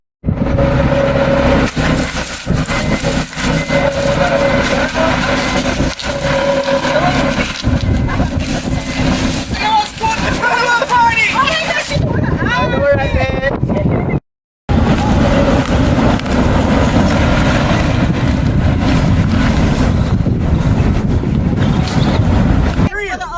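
A car pulls away and drives down a road in Jamaica, with a rough, wind-blown engine and road roar running throughout, briefly cut off midway, while voices talk over it.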